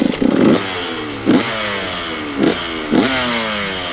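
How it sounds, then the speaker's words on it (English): A two-stroke motorcycle engine blips up in four short revs over a steady ringing idle, heard close and loud with a rapid buzzy rattle between throttle bursts. "a 2-stroke engine gives you that rapid ring ding ding ding ding ding horror movie villain with a chainsaw coming to kill you sound"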